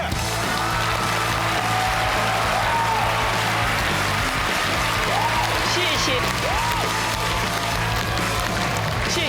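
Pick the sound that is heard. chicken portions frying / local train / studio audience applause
studio audience applause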